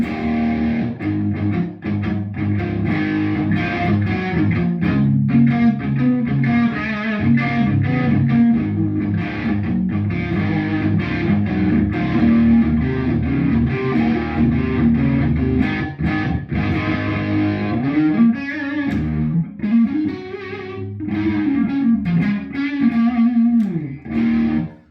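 An electric guitar plays through a Rocktron Sidewinder with the gain turned up, giving a loud, sustained distorted tone with chords and single notes ringing for nearly half a minute.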